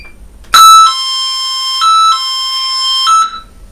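A solar-powered alarm siren sounds a loud, long electronic beep as it switches off, a steady harmonic-rich tone lasting about three seconds with small pitch shifts, close and alone.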